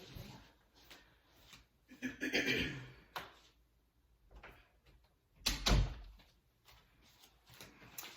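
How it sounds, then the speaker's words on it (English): Someone nearby shuts an indoor door, with a soft clunk and rustling among quiet movement and some faint talk in a home room. "And shut my door"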